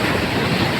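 Big ocean waves churning along the Samar coast during Typhoon Wilma, a loud continuous roar of surf mixed with wind buffeting, with no one speaking.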